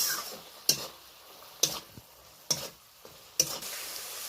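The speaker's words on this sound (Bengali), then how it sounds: "গুঁড়ো মশলাগুলো ভালো করে কষিয়ে নেব।" Ground cumin, coriander, chili, turmeric and Kashmiri red chili powder fry in oil in a pan, a steady soft sizzle broken by four sharp stirring scrapes at regular intervals, close and without talk.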